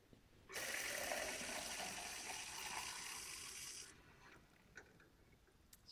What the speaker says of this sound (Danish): at den her skal fyldes med vand.